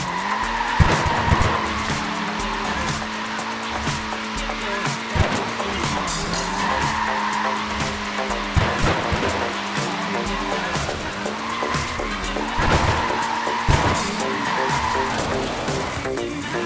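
A Mini with short wheelbase and front-wheel drive skids and slides in the Forza Horizon 4 racing game, repeated loud tire squeals over a continuous engine roar, with brief talking.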